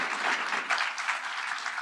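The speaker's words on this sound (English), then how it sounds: "thank you everyone in the audience. If you give them a round of applause." Audience applauds panelists at a clinical AI discussion, a dense, steady wash of clapping from many hands lasting a couple of seconds with no talking over it.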